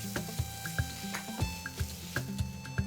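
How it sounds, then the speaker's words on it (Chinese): Onion, garlic and tomato paste are stir-fried in a pan, giving a soft, steady sizzle broken by regular scraping strokes of a spatula, with light background music and no talking. "翻炒一下"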